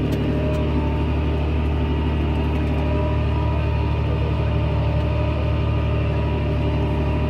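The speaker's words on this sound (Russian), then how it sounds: "Сеем в этом году на тракторе John Deere" A John Deere 8310i tractor engine drones steadily during spring sowing of spring wheat, a loud, constant low rumble heard close up with no change in pitch.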